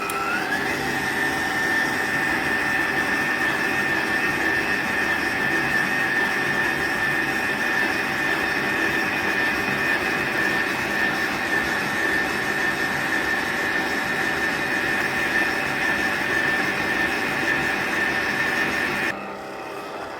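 A stand mixer kneads bread dough for a pot-baked loaf at raised speed, giving a loud, steady whirring motor drone with a constant high whine for about nineteen seconds before it drops away at the end.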